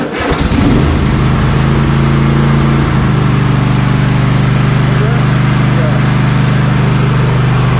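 A Cub Cadet 149 lawn tractor engine fires up and settles into a steady, loud, close idle with a low even drone and slight change in pitch early on, running alone without talk.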